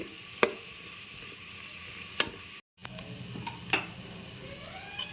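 Spices for a country chicken curry sizzle steadily in a hot pan, a continuous frying hiss broken by a few sharp clicks of a spoon against the metal, close and moderately loud with no talking.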